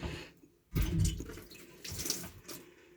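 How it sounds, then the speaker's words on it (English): Water runs out of the air-conditioning condenser on a Studebaker truck cab. It starts as a faint trickle, then a louder, close, splashing gush that rises and falls in uneven surges, with no speech. "You hear all that water? That's out of the condenser, so it's doing its job very well."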